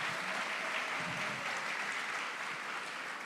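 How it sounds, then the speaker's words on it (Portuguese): A church congregation claps steadily during a Christmas-season service, the dense, even applause filling the room without a break and no voices standing out. "pode louvar o Senhor com as suas palmas"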